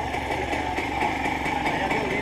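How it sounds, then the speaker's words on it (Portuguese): Motorcycle engine running with a faulty carburetor, idling with an uneven, pulsing chug that stutters irregularly, steady and fairly close throughout. "a moto tá falhando o carburador"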